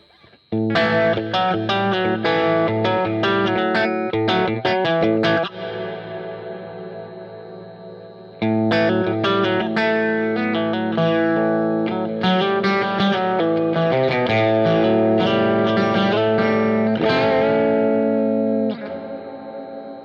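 Guitar chords and picked notes wash into a lush, ducked long plate reverb from a DigiTech XP400 Reverberator, its tail swelling and pumping back between phrases, with no talking.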